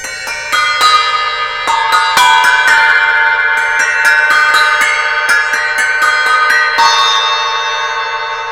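Paiste 2002 Cup Chime bell cymbals are struck repeatedly with a hard rubber mallet, bright metallic pings ringing and overlapping in a quick, uneven pattern.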